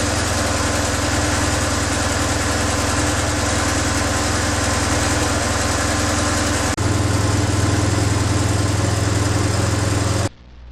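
BMW R motorcycle boxer twin idling steadily during throttle body synchronization, a loud continuous close-up engine drone that deepens slightly partway through, with no talking.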